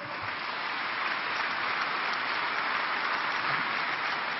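An audience at an international economic forum applauds, a steady, even wash of clapping from a large crowd that continues without a break, moderately loud and heard alone.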